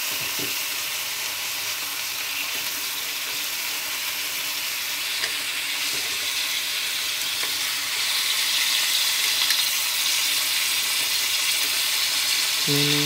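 Water spinach stir-fried with garlic in a pan, a loud continuous sizzle that grows slightly louder toward the end, with occasional faint utensil knocks and no talk.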